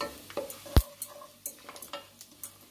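Cumin seeds splutter as they roast in a pan on a low flame for jeera rice, with scattered small pops and crackles, a sharp clank near the start, and soft stirring close by.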